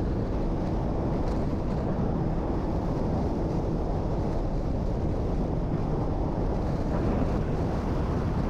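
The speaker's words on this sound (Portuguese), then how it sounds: "Pelo que eu já vi, temos o vento mesmo de frente." Strong headwind buffets the microphone while riding across the Lezíria Bridge in Ribatejo, a loud, steady low roar that fills the whole stretch with no letup and no voices.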